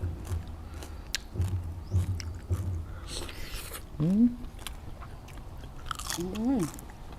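Crispy roast suckling pig skin is bitten and chewed close up, giving a series of sharp crunches and munching sounds, with a couple of appreciative murmurs in between.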